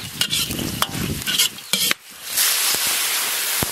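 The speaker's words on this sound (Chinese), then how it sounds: "锅里倒点油" Oil hitting a hot wok while seasoned whole chicken is prepared for Sichuan-pepper chicken, crackling and stirring close up, then a steady bright sizzle that holds for a couple of seconds, punctuated by a few sharp clicks.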